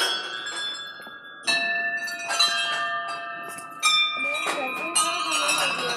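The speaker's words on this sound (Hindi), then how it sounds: "यहाँ पे आपको जितने भी मंदिर दिखेंगे उनमें घंटियाँ मिलेंगी।" Metal bells ringing at a Hindu temple of Kali Mata in Pithoragarh, Uttarakhand, several clear struck rings with long shimmering decay, loud and close, a few overlapping strikes and faint background voices.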